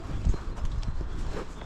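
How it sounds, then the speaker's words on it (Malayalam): A horse's hooves clip-clop at a steady walking pace during a ride, close by and clear, over a short stretch with no talking. "നീ വന്ന കുതിരയാണിത്."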